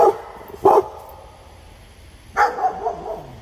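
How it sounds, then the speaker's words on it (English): Dogs bark in a garden, with two short, sharp barks early and then a cluster of barks and yips near the end, fairly close and loud against a quiet background. "Pardon the dogs, they heard a noise. All it takes, hear a little noise, they go nuts."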